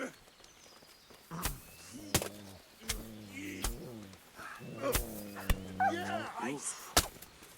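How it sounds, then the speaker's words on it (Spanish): A dog in the video game Kingdom Come Deliverance whimpers and yelps in short, repeated whines after being hit, fairly close, with footsteps and other game sounds between the cries. "Creo que le pegué al perro"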